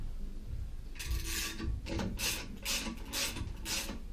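A Delta faucet part clamped in a vise is loosened, producing a run of faint, evenly spaced scraping and grinding bursts up close, with no voices.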